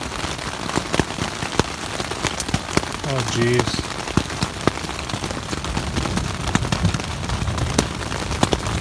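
Big hailstones pelt a tent during a desert monsoon storm while camping in Big Bend Ranch State Park, Texas, a dense, steady patter of sharp impacts throughout with a brief exclamation from a person partway in.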